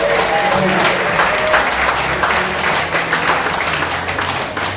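Town hall meeting audience giving a round of applause for a police officer, dense steady clapping across the whole stretch with voices mixed in.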